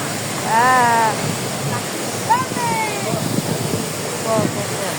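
A waterfall pours into a river at the Pozar thermal baths, a steady rushing splash heard close up beneath people talking.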